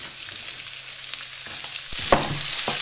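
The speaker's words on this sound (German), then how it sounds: "sobald es heiß ist, könnt ihr dann die Zwiebeln und den Knoblauch in die Pfanne geben" Onions and garlic start frying in hot oil in a pan, a soft sizzle that swells into a louder, steady crackling hiss partway through, with stirring clatter and no talk.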